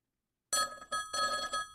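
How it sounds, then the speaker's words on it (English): An old-fashioned telephone bell rings in two close bursts after a half-second of silence, loud and near, inside a vintage radio drama. "Wait a second, the phone's ringing."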